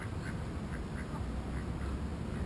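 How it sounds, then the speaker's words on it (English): A duck on a lake gives several short quacks in a loose series over a steady, noisy outdoor background, moderately near. "this duck has launched itself into this sort of lake thing for no apparent reason"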